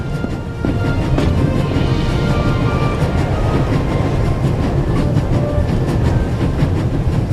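A train crossing the Alps rumbles steadily at full speed in The Raven Remastered video game, a dense, loud, continuous roll with faint rhythmic clatter throughout.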